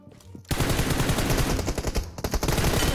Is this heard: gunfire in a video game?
yes